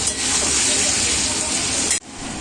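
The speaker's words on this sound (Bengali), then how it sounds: "ডালে ফোড়ন দেওয়া হয়ে গেছে" Whole spices crackle and sizzle as they temper in hot oil for lauki dal, a steady loud frying hiss that cuts off abruptly near the end and resumes.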